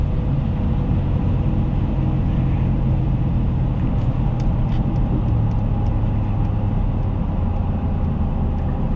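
A lifted 2002 Chevrolet Silverado 2500HD truck drives with a steady, loud low-frequency engine and road rumble, continuous throughout with a faint drone shifting in pitch.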